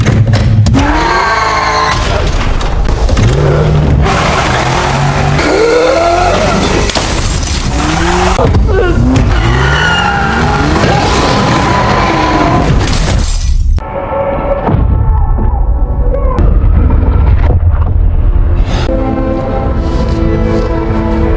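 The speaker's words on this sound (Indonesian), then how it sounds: "Jason yang kebingungan berniat untuk menjebol pintu garasi menggunakan mobil Toretto hasil rakitannya." A car rams through a garage door in a movie scene: loud engine roar, screeching tires and crashing, shattering impacts dominate the first half, then a rumbling engine continues more quietly.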